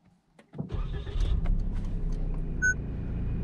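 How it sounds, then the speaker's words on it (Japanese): After a quiet moment, a Suzuki Hustler's engine cranks and catches, then settles into a steady low idle close by, with a faint electronic chime. "エンジンをかけてみようと思います。"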